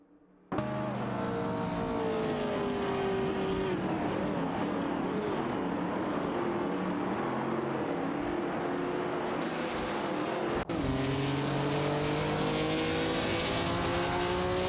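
Racing video game engines of a Ford Escort Mark II and a Ford Mustang GT on a track, a loud continuous roar with rising and falling engine pitch, gear shifts and a second car cutting in near the end.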